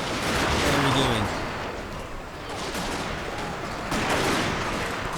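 Gun battery towers firing in Total War: Shogun 2 Fall of the Samurai, a dense crackle of gunfire and cannon-like bursts sustained throughout with a fresh loud volley near the end, plus faint game voice snippets.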